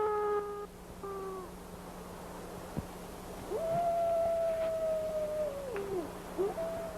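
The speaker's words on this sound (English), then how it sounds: "Did you hear that? You sound like Wolf, I think. Sure, it's a wolf." A long wolf howl rises and holds steady for a couple of seconds before dropping, following shorter calls at the start, heard over a steady low hum from an old 1941 adventure film.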